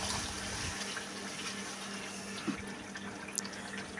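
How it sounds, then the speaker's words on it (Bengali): Water pours into a cooking pot holding onion-garlic paste, ginger paste and two bay leaves for chui jhal beef, a continuous soft splashing stream at close range with a faint clink near the end. "পানি দেওয়া হচ্ছে"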